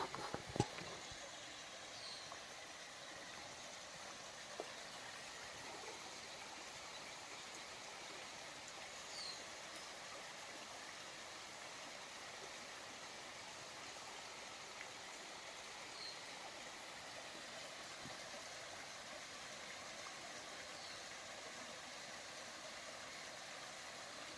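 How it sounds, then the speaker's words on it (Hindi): A forest waterfall spot flows with a constant soft rushing hiss, far and faint, steady throughout with a couple of small knocks near the start. "ये कल कल बहता झरना, बहुत बढ़िया स्पॉट यहाँ पर है।"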